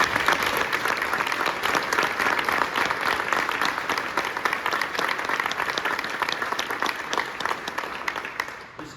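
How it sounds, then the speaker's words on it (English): Audience applause honoring a donor at a college of business celebration, sustained crowd clapping that stays full and even for about nine seconds before tapering off. "join me in another round of applause"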